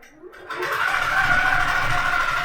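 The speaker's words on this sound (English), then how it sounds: "it's going to stitch right along that edge and not even go into my batting" A quilting machine on a rolling rail frame stitches along the edge of a quilt top, a steady close mechanical whir that starts after a brief quiet moment and holds a level, even hum to the end.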